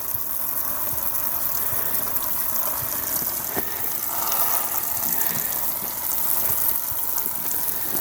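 Steady hissing spray of water from a hose into a DIY crawfish cleaner, continuous and fairly loud throughout, with no talking.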